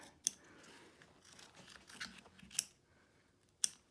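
Scissors trim stitched embroidery on an in-the-hoop zip bag, making a few sharp, quiet snips spaced out over a near-silent room.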